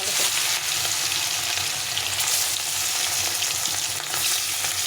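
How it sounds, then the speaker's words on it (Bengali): Fish fries in hot Fortune sunflower oil, a loud, steady, close crackling sizzle that holds evenly throughout with small pops and no voices. "প্রথমে মাছটাকে ভেজে নিই"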